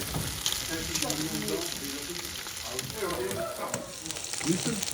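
Ginger and garlic frying in a pot, a steady broadband sizzle with stirring scrapes throughout, while people talk over it nearby.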